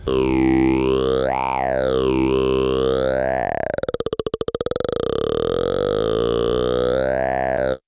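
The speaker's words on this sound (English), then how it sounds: "formant filters to get those vowely tones, especially if you're using a saw wave" A buzzy sawtooth synth tone swept through a formant filter in FabFilter Volcano, sliding between "ah" and "oo" timbres, with a brief stuttering wobble midway; sustained and loud.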